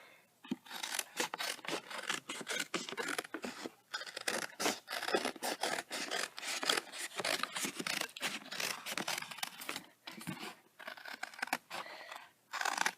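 Scissors snip and crunch steadily through cardboard while shoe shapes are cut out, giving quick, close, repeated cuts with scraping and crinkling in between and no talking.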